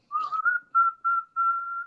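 A person whistles a short tune of a few sustained notes, clear and close, with brief pauses between them and no talking over it.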